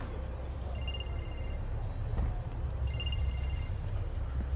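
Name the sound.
phone ringing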